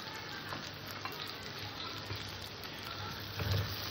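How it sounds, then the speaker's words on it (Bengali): Potato and fried pointed gourd pieces being sautéed in a pan for an egg curry: a continuous soft sizzle with scraping stirs and a slightly louder scrape near the end, no voices. "আবারও তরকারিটাকে আমি ভালো করে কষে নেব"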